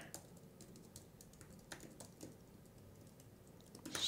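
A computer keyboard is typed on quietly to write a tweet, with soft, irregular key taps over faint room noise and a slightly louder clatter at the end.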